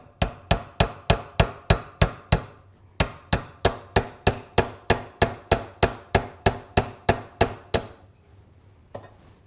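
Steady run of hammer blows driving a pin into a knife handle during restoration, about two dozen sharp evenly spaced strikes with a brief pause partway, then the hammering stops and a faint knock follows.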